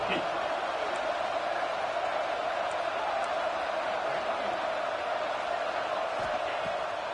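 A football stadium crowd roars steadily ahead of a big third down at an Ole Miss game, a dense, sustained wash of cheering with no break.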